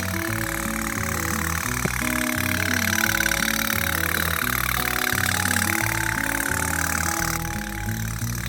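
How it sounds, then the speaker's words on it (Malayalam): A small motor drives a toy boat, running continuously with a close, rapid buzzing chug and an uneven, pulsing low rhythm that holds steady throughout. "അപ്പോൾ നമ്മളെ ബോട്ട് ഓടിത്തുടങ്ങിയിട്ടുണ്ട്"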